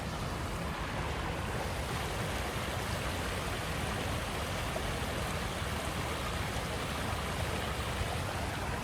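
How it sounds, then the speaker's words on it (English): Steady rushing and splashing of a water feature at Disney's BoardWalk, a constant, fairly loud wash of running water with no break and no voices. "This is maybe the best water feature."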